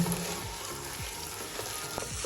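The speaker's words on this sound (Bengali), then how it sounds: "এটাকে এখন ভালোভাবে ভাজবো" Six or seven green chillies fry in hot oil in a pan for polau, giving a quiet, steady sizzle with a few soft stirring scrapes; no talking.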